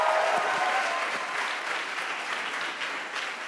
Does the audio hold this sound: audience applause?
yes